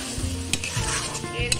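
Green peas fry with spices in a pan over a medium flame, giving a steady, close sizzle broken by a few stirring scrapes, with no voices.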